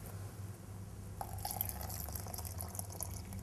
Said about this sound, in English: I'm going to add the balance of the coconut water